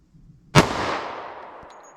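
A single .45 ACP pistol shot fired through a 3.3-inch barrel, a sharp loud crack with a long fading echo tail, close by.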